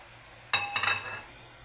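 Metal lid set onto a cooking pot of papaya simmering in coconut milk, a single bright clink followed by a short rattle as it settles, close and fairly faint over a quiet background.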